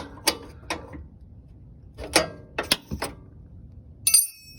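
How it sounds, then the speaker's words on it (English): A wrench works a coilover adjuster on an EM2 Honda Civic, producing a few sharp, close metallic clicks and clanks spaced irregularly against a quiet background. "Take your smaller wrench, loosen this"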